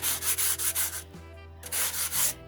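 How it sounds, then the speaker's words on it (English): Sandpaper from a dollar store rubbed lightly over a stencil cut from a Christmas card, a series of soft rhythmic scratchy strokes, close and clear, with a short pause midway before the strokes resume. "Now you don't rub hard, just a little bit."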